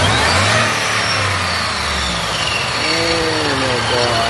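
A classic truck engine fitted with a Whipple supercharger revs loudly and close, holding a dense roaring drone with rising and falling pitch sweeps, while people talk over it.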